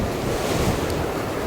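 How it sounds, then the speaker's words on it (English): Strong wind roars steadily across the microphone on the summit of Bald Mountain on the Appalachian Trail, a loud continuous buffeting with no voices. "So we're on the summit of Bald Mountain. It's a little windy."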